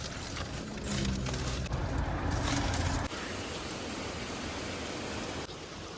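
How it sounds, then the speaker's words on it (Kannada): Heavy rain heard from close by as a steady broadband wash, with a dense patter and a few uneven surges of louder downpour. "ಮಳೆ ಉಂಟು, ಮಳೆ."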